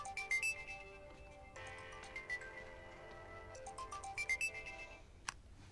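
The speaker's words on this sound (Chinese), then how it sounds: "有电话啊？" A phone ringtone plays a bright, repeating electronic melody of chiming notes, steady and moderately loud indoors, with no voices over it.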